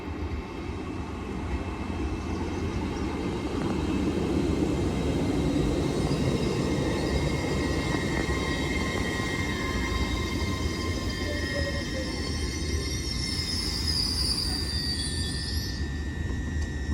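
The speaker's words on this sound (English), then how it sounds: "Train now departing is a 802 Transparent Express going to Newcastle." A Class 802 express bound for Newcastle rolls through Newton-le-Willows station, a steady broadband rumble of wheels and engine persisting throughout with faint high whines rising near the end.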